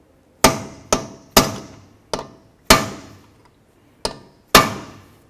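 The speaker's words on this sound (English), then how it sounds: "I'm just going to use a punch. I'm going to come right inside this area here and pin it over." Sharp metal hammer blows drive a punch to stake an axle nut on a Ford Fusion, seven close ringing strikes at uneven intervals with brief decays between them.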